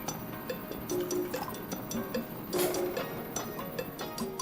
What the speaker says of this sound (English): Let's now stir them into a smooth stir-fry sauce.